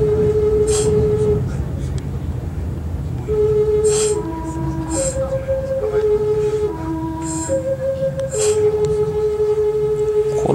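A Meitetsu Panorama Super express train arriving at a station, heard from on board as a steady rumble under clear pitched electric tones that step up and down in a sequence, with a few brief voices.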